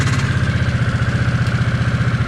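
Harley-Davidson 975 Nightster motorcycle idling up close, a low, loud rumble with a fast, even pulsing beat and no voices over it.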